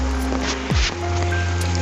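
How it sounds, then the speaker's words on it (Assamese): Dense, steady monsoon rain during flooding in Nalbari, Assam hisses loudly and without a break, with a low hum underneath and a brief falling whine partway through. "গম নাপাওঁ কেতিয়া কমিব এই বৰষুণ, কিন্তু সোনকালে কমিলে ভাল আছিল এই বৰষুণ।"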